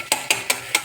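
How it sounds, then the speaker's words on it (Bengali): Egg frying in a pan while a spatula scrapes and stirs it, four sharp rhythmic strokes against the metal over a faint background sizzle, close and fairly loud. "এদিকে ডিমটাও বেশ ভাজা ভাজা হয়েছে, ভালো করে ভাজতে হবে।"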